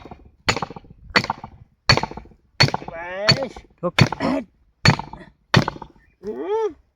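A hammer drives a nail to fit a pipe in a farmer's field fix, with about eight sharp, evenly spaced close knocks and brief voices speaking between some strikes.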